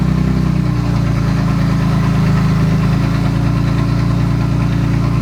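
Toyota Supra MK4 engine running right after a rebuild, a loud steady idle with a low rumbling drone and faint knocking vibration, alone with no talking.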